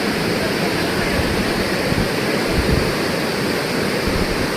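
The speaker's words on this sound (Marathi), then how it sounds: "चला तर आपण आता मेन धबधब्याकडे जाऊया" Steady, dense rush of falling water from the 300-metre Vyaghreshwar waterfall at Manche, Devgad, loud and continuous with no breaks, heard from close by.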